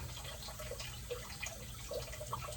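Water from a rinse hose runs steadily into a scuba BC, a continuous soft gurgling and trickling stream with small splashy drips, close by and fairly quiet.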